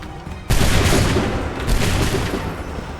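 A musket volley fired on command in Assassin's Creed 3 erupts as one sudden loud crack of many guns together, trailing into a rumbling echo and scattered further shots.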